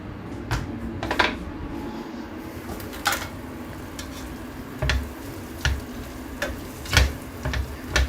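Pasta being mixed with clams, wine, butter and clam brine in a pot, with repeated knocks and clinks of a utensil against the pot over a soft background hiss.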